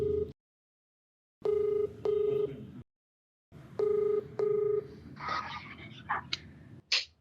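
Keypad dialing tones from a telephone placing a call, bursts of steady beeps in short groups separated by pauses, clear and close, followed by faint rustling and a brief click.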